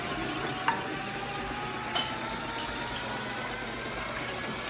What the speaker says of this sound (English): Turn it up a little so you get a little more of a sizzle there